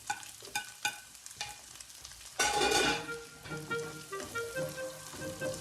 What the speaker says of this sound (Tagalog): Sa butter ko ginisa, guys, ang ating garlic and onion.